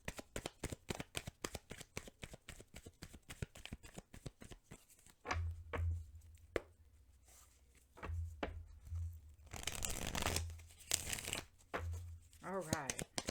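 Tarot cards shuffled by hand in rapid riffling bursts that fill the opening seconds, then return in shorter flurries between stretches of someone talking close by.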